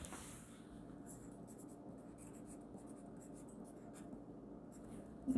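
A pen scratches faint, quick strokes as an amount is handwritten, soft intermittent scribbling throughout, ending with a louder thump.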